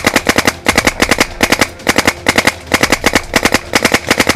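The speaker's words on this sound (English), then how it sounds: "Listening to the firefight and still shooting." Rapid machine-gun bursts in a war video game firefight, loud and close, firing in quick rhythmic strings of shots separated by brief pauses.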